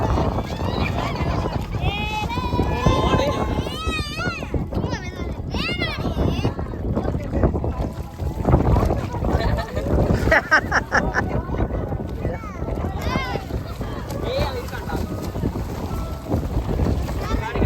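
A boat moves through mangrove waters at Karangadu, with a steady churning engine and water rumble, gusty wind buffeting the microphone, and voices talking and shouting throughout.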